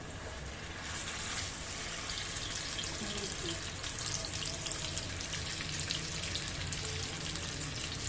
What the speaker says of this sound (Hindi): आपको आवाज़ आ रही होगी घी की, घी कितने अच्छे से मतलब बॉईल आया है घी में